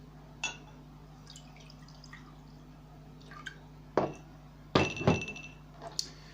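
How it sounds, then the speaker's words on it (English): Tap water poured into a drinking glass gives a few short splashes and glassy clinks, close and moderately loud against a quiet room, with no talking. "So we're going to pour this in the first glass."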